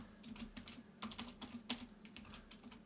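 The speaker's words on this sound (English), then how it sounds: "So if I type in here" Typing on a computer keyboard: quiet, irregular key clicks in short bursts, close by with a faint steady hum underneath.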